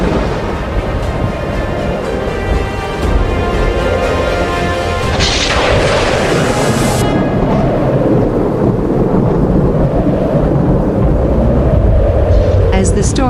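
Thunder rumbling with heavy rain as Hurricane Hilary's storm approaches Southern California, a continuous loud wash of rain with deep booming rolls throughout.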